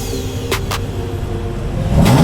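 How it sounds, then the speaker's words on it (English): BMW X5M engine revving nearby, a loud deep throaty roar that climbs at the end with a rising rev, with brief sharp pops earlier in the clip. "Whoa, Yuri, rev it again!"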